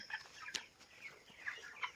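A 24-day-old broiler chicken clucks softly several times at close range while being held for weighing, quiet broken calls over a faint background.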